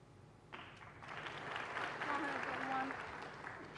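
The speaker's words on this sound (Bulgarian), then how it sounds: "Публиката аплодира и окръжава Джак." Audience applause at a snooker exhibition match in Sofia, Bulgaria, a steady wash of clapping that swells after a quiet start and holds, with a voice talking over it.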